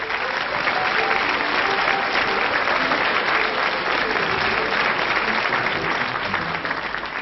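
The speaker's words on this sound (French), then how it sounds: "le public va t'applaudir de confiance" A TV studio audience applauds steadily and loudly throughout, a dense wash of clapping with no talk over it, on a French music show for young performers.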